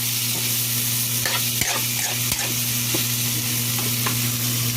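Tofu frying in a pan of oil, steady loud sizzling with irregular scraping strokes of a utensil stirring, over a constant low hum, and no talking.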